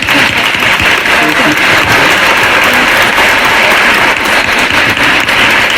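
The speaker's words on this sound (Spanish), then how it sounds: "démosle un fuerte aplauso a la doctora" Audience at a church book presentation applauding a doctor, dense sustained clapping from a crowd, loud and steady for several seconds.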